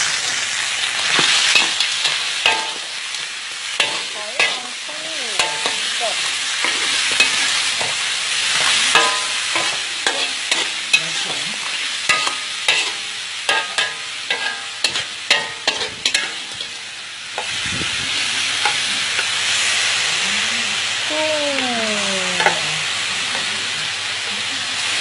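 Boiled spaghetti and egg stir-fry in a hot pan with a continuous loud sizzle and hiss, punctuated by frequent sharp spatula scrapes and clatters against the pan, plus a brief squeaky tonal sound near the end.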